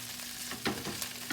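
Pork chorizo and eggs sizzle and crackle in a pan for breakfast tacos, a steady close frying hiss with a few stirring scrapes and no talking.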